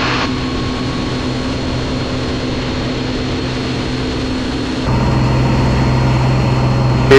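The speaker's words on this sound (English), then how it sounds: "Take off. Landing gear's going up." A Piper Comanche 250 heard from inside the cockpit as it takes off and the landing gear retracts: a loud, steady propeller engine drone that steps up in low rumble partway through.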